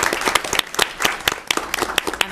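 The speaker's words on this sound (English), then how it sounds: "Let's give those students a round of applause for their artwork." Brief burst of applause at a school board business meeting honoring elementary students' artwork, a room of people clapping steadily and fairly close for a couple of seconds, with no talk over it.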